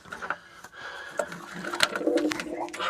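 Pigeons cooing inside a coop with chicks, soft murmuring calls close by with a few clicks and rustles, while a person talks faintly in the background.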